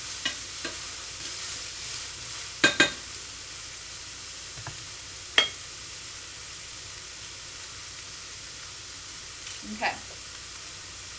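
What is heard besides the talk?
garlic and onion sautéing in a pan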